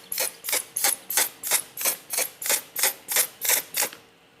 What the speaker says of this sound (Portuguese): E começo a borrifar.